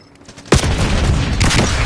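A frag grenade detonates in the Call of Duty Warzone video game: a sudden loud broadband blast near the middle, then a sustained rumbling roar, with a second burst of crackle toward the end.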